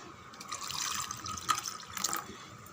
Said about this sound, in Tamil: மீதி புளி தண்ணியை ஜாரில் சேர்த்து